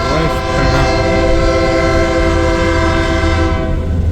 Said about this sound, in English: westbound empty coal drag, westbound empty coal drag. The leader 6006 is in the new UP livery.